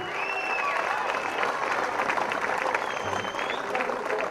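A crowd applauds warmly for Noam, the women's coach of the Beit Lehem HaGlilit roller hockey team, at the 2013-2014 senior state cup final, with dense sustained clapping and faint crowd voices mixed in.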